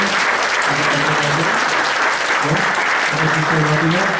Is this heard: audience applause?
yes